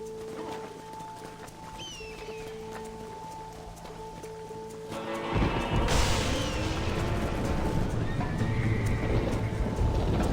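Spooked horses stampede in Red Dead Redemption on a stormy night, whinnying and neighing over steady rain and wind, then a surge of thundering hooves and clatter sweeps in loud and close about halfway through and keeps rolling.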